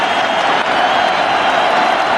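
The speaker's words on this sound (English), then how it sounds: "Listen to this crowd." A packed basketball arena crowd roars and cheers steadily in the closing minute of a Kings versus Timberwolves playoff game, a dense, loud, sustained wall of noise with no break.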